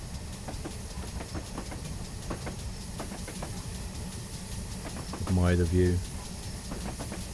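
A GWR Hall 4900 Class steam locomotive on the Falmouth Branch Line in Train Simulator, rhythmic chuffing and rail clatter under hiss, with one loud whistle blast near the end and someone speaking briefly.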